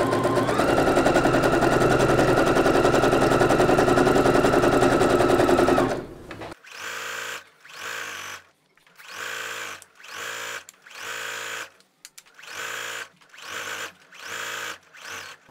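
A sewing machine stitches interfacing to the cut edges of fabric for a summer suit: first one steady continuous run, then a series of short, evenly spaced stitching bursts with brief pauses, close and clear with no talk.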